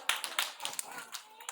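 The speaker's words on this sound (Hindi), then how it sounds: "जोरदार तालियां" Children in an alphabet-recognition class clap together briefly. The applause is a short, close burst of scattered hand claps.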